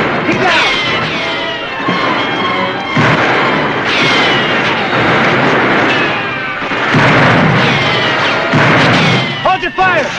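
A western TV shootout rings with loud, sustained volleys of gunfire, overlapping booming shots and sharp cracks that barely let up from start to finish.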